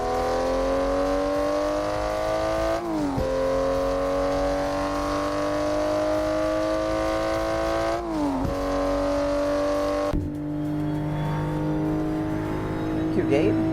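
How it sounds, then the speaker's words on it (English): A Toyota Supra MK5 in a driving video game hums along with a steady engine drone that rises in pitch through gear changes, with a few abrupt shifts and people talking over it. "This is the car I'm driving, a Supra"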